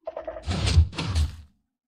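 A Minecraft redstone door, triggered by calibrated sculk sensors, opens in two quick sliding, grinding bursts with a short gap between them. It is close and moderately loud, after a faint lead-in.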